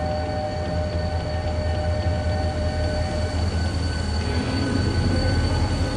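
Mugunghwa passenger train number 4401, a temporary service of seven coaches hauled by a diesel locomotive, gives a steady loud rumble and rolling wheel noise with a faint sustained squeal, continuous and close throughout.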